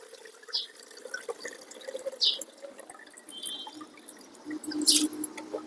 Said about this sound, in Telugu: ఇప్పుడు బియ్యం కడుకుందాం